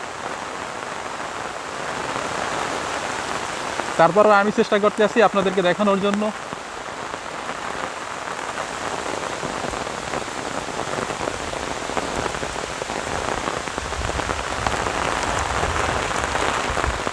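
Heavy monsoon downpour with wind in a village, a dense, loud, steady hiss of rain on surfaces, with a person briefly talking over it early on.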